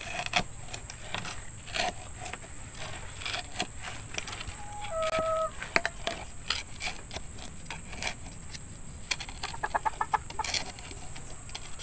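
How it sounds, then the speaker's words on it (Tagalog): A chicken gives a few soft clucks and short squawks amid quiet background noise, with scattered clicks and taps nearby. "si Chichi, pinapakalman yung manok mo"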